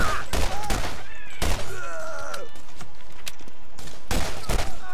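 In the video game Borderlands, a dense run of loud gunfire fills the whole stretch, with heavy repeated bursts layered over groans and whining tones and no pauses.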